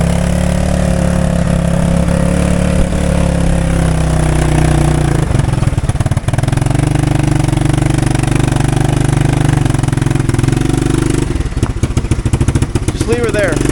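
A three-wheeler engine swapped into a golf cart runs loud and steady at close range, its rough mid-pitched drone holding throughout with brief bursts of clatter near the middle and end, while people talk over it.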